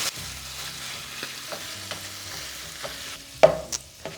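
Ground turkey sausage frying in a pan while being chopped and stirred with a utensil, soft sizzle under repeated scraping taps and a sharper knock near the end.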